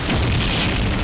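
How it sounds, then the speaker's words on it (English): Homing missiles exploding in Fate/Grand Order: a single loud, close blast, one short roaring boom lasting about a second. "Incoming! Crap, they're homing missiles."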